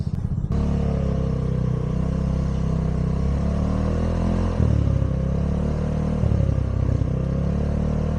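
Gator 200 moped riding through traffic, a steady close engine drone with clattering rumble and wind, pitch shifting slightly as throttle changes.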